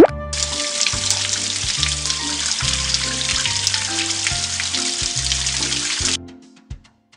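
Steady broadband rushing of running water for about six seconds in a PAW Patrol game, rinsing the pups, over cheerful background music, then it cuts off abruptly.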